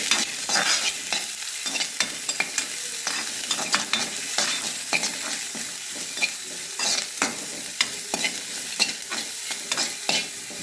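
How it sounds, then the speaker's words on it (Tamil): Chopped onions being sautéed in a pan, with a continuous frying hiss and frequent quick scraping and clattering strokes of a spoon against the pan, close and steady throughout. "கட் பண்ணி வச்சுருக்க ஆனியன் போட்டு லைட்டாக ஒரு வதக்கிட்டு"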